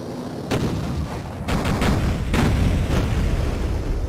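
Gunfire and explosions sound from the opening of the video game Duke Nukem 3D, a series of sharp, loud blasts and booming bursts spaced out over a few seconds against a continuous rumbling background.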